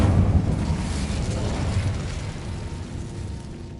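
A fire spell cast in Hogwarts Legacy gives a loud low rumbling whoosh that fades slowly over several seconds, with no other sounds over it.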